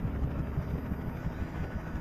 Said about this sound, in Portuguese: Olha, o helicóptero tá sendo atacado por curvos.